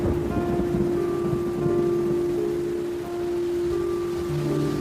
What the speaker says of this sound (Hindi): तेज बारिश में आप मत जाइए